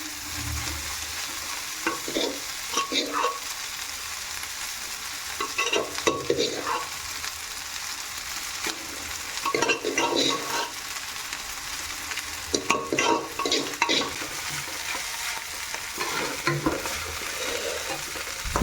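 Vegetable pulao with leftover green vegetables stirred and fried in a pan, a steady sizzle under repeated scraping strokes of a spoon against the pan, close and clear with no talking.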